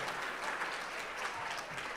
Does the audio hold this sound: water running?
no